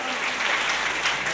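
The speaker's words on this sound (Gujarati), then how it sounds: "વધાવો જોરદાર તાળી આપે" Loud, steady applause from a crowd at a village religious programme, a brief dense burst of clapping with no pauses.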